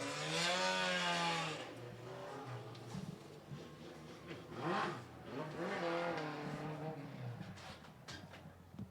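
Pure Stock race cars at Monadnock Speedway, engines revving and droning with rising and falling pitch as they pass, a moderately distant roar of several cars under a faint announcer's voice.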